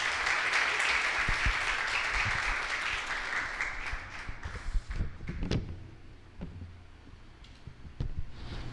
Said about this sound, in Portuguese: eu queria que vocês recebessem ele com uma salva de palmas